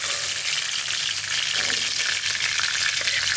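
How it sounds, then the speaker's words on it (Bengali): Pomfret fish frying lightly in oil in a pan, a bright continuous sizzle with crackling spatter, close and steady throughout with no voices. "হালকা ভেজে নিচ্ছি, খুব কড়া ভাজি নেই"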